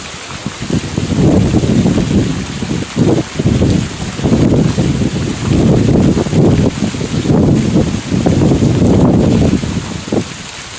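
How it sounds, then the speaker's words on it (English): Strong gusts of wind buffet the microphone on a very windy day outdoors by a pool, a loud low rumbling roar that surges and drops in repeated bursts with brief lulls between them. "I'm sorry about the wind. It's a very windy day."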